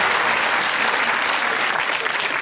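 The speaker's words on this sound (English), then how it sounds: "you're applauding someone being very weaselly" Dense, steady applause from a quiz show studio audience fills the whole stretch, loud and close with no break and no voices on top.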